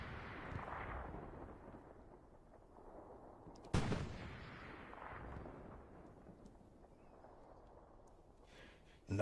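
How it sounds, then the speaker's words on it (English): Tank gun fire in a video game tank battle, a single sharp distant boom with a rumbling tail amid quieter battle noise and other faint thuds, under low background sound. "Another 101A tank goes down to what looks like Fister's tank. Really long shot there"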